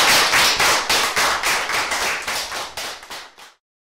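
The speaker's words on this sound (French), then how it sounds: "d'applaudir encore." A television talk-show studio audience claps in unison, about a dozen loud, evenly spaced beats that keep a steady rhythm and then stop abruptly.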